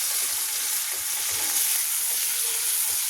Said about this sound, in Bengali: দেখো টমেটোটা ভাজা হয়ে গেছে, নরম নরম হয়ে গেছে,